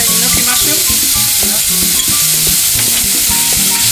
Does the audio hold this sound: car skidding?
no